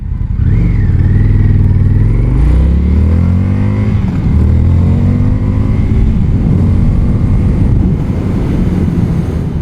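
A 2020 Indian FTR 1200 motorcycle accelerating hard in sport mode, its engine note climbing steadily through the revs with a shift partway, loud and close under steady wind rush.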